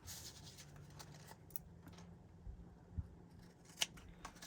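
Scissors trim a rolled paper calla lily flower embellishment in a quiet room, with a couple of soft, close snips standing out over faint background hum.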